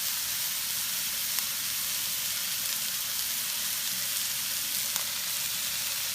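Diced green chili peppers sizzle and fry steadily in a hot pan, a continuous crackling hiss with small pops, close and fairly even throughout with no voices.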